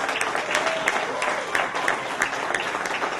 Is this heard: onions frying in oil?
no